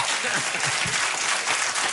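A comedy audience cheers and applauds in a steady, loud wash of clapping, with scattered voices mixed in.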